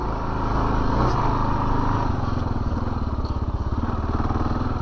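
A 2022 Kawasaki KLR 650 climbs a hill off road in second gear, its single-cylinder engine thumping steadily and loud throughout, a strong continuous pull with a rapid pulsing beat near the microphone.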